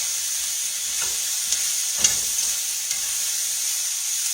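Squash and red peppers stir-fry in a skillet with a steady, close hiss and sizzle, broken by a few soft scraping stirs.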